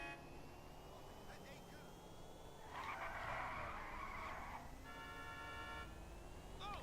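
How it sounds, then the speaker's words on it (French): A car drifts in a video game with a sustained tire screech over a low engine drone, followed by a short horn-like tonal toot, moderately loud, with a voice talking underneath. "petit drift calme"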